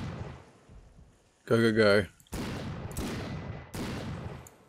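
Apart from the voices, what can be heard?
gunshots in video game Florida Simulator 1986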